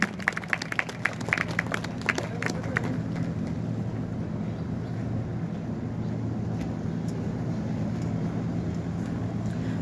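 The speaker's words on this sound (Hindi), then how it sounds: "जोरदार तालियां इस बच्चे के लिए।" At a school results ceremony, an audience claps for a student. The crisp, crowded clapping in the first seconds fades into a steady wash of hall noise and murmur.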